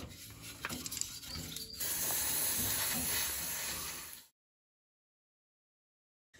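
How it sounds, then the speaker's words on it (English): A WD-40 aerosol can sprays in a sustained, loud hiss for a couple of seconds after some faint handling noises, then cuts to silence. "We need to give this a bit of a spray."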